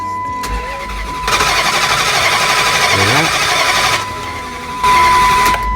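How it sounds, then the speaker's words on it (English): A 2005 Dodge Durango with a no-start fault cranks repeatedly without catching, the starter churning loudly in two long bursts with a short pause between and a faint steady tone underneath. "So now I'm gonna start it, and I want to show you guys that this thing does not start"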